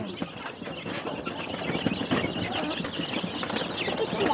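Chickens and small chicks clucking and peeping in a yard, a soft, busy chatter of overlapping calls that continues steadily throughout.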